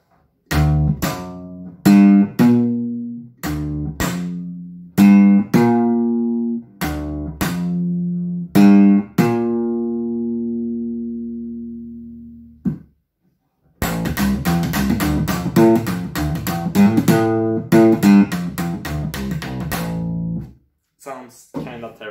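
Double bass strung with steel rope core strings, plucked through an amplified pickup: a run of separate low, ringing notes with long decay, a short pause, then a quicker, busier passage of notes, heard alone without talk.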